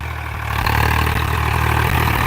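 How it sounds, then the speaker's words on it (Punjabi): A Swaraj 855 tractor's heavy diesel engine idling steadily nearby during a tractor trial, a low chugging rumble with a regular throb and no voices. "ਇਹਦਾ ਟਰੈਕਟਰ ਦਾ ਟ੍ਰਾਇਲ ਮਿੱਤਰੋ ਚੱਲੀ ਜਾਂਦਾ"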